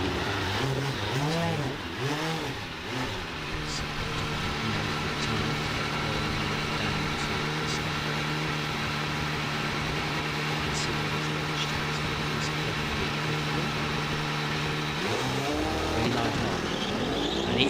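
A race car with a 4-litre engine launches hard off the line at the Wiscombe Park hillclimb, its loud engine note rising and holding a steady high drone before rising again near the end.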